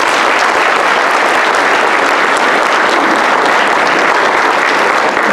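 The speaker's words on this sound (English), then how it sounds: "Let's give all of them a round of applause." An audience applauds at a Youth Leadership Pickens class graduation and scholarship presentation in 2015, the clapping loud, dense and steady from start to finish with no voices above it.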